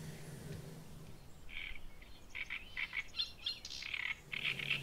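Eurasian tree sparrows calling at Lake Neusiedl in May, a series of short chirps and chatters at moderate distance over a quiet outdoor background, without speech.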